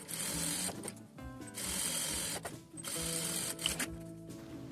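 A sewing machine stitches the sides and bottom of a bag lining in three close, steady runs with brief pauses between them, a rapid mechanical whir and clatter heard alone.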